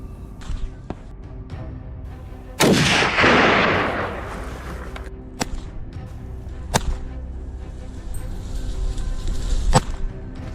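A rifle shot fired at a wild boar bursting from bushes during a rush hunt cracks loudly once and rolls away in a long outdoor echo, followed by scattered faint clicks and knocks in the woods.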